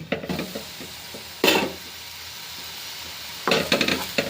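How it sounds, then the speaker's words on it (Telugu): Brinjal pieces stirred in oil in a pan on the stove, with a low steady sizzle broken by a few scraping stirs near the start, middle and end. "ఇలా వంకాయ ముక్కల్ని నూనెలో బాగా కలిపేసి ఈ వంకాయ ముక్కలు సాఫ్ట్ అయ్యేదాకా ఉంచుకుందాం లిడ్ పెట్టేసి."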